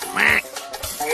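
A rubber duckling toy gives a short, bright squeaky quack, close and clear, followed by softer squeaks and background sound from a Ukrainian-dubbed Mickey Mouse Clubhouse cartoon.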